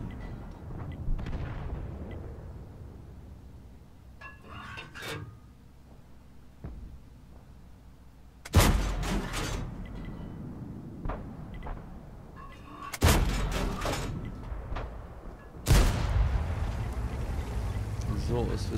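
Blind shots from an E50M tank's cannon in World of Tanks, three loud booming blasts at about 8.5, 13 and 16 seconds over steady engine rumble and ambient battle noise, with earlier fainter distant shots.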